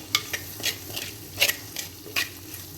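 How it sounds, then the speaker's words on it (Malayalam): Onions and green chillies sautéing in a pan for a pork and plantain dish, with a spoon scraping and stirring in a quick, uneven rhythm of sharp clicks over a faint, steady sizzle, up close and without speech. "സബോള, പച്ചമുളക് ഇട്ട് വഴണ്ട് വന്നിട്ടുണ്ട്."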